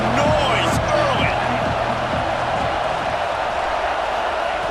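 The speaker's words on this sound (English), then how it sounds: "This crowd bringing the energy and noise early." Dense stadium crowd roar in the College Football 26 video game, loud and continuous throughout, with a commentator speaking over it.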